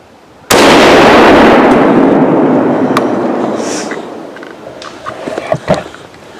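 A single loud rifle shot fired during a Wisconsin deer-season hunt goes off sharply outdoors, and its boom rolls away and echoes for several seconds before fading.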